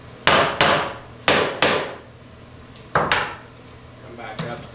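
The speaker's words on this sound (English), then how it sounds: "I'm going to take my hammer" A hammer strikes hard during production assembly, with six sharp, close blows in uneven pairs followed by a fainter tap, each ringing briefly before it decays.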